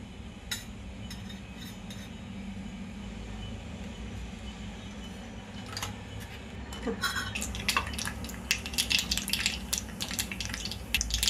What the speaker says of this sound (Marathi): मोहरी दाणे कसे फुटतात बघा